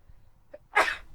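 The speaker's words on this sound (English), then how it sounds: "he did actually sneeze" A man gives one sharp, close sneeze, preceded by a short breathy intake, inside an RV.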